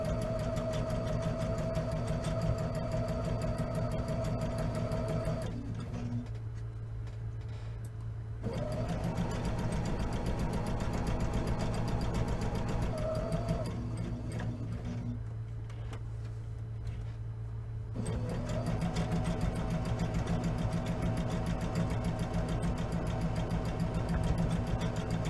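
Sewing machine running along a tote bag seam, giving a long steady mechanical hum with a constant tone, stopping briefly twice and then resuming, close and alone.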